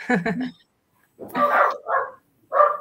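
Dogs bark in a few loud, close bursts at a festive card-making workshop, following a brief voice at the start.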